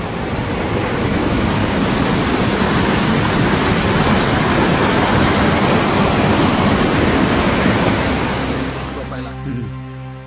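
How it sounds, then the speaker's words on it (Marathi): Steady, loud rush of water pouring through a newly built dam canal, a constant broadband roar that fills the whole stretch before cutting off abruptly near the end. "हे नवीन धरणाचं कॅनल बांधलंय. कॅनल म्हणजे इथून पाणी गावागावामध्ये पोचवलं जातं."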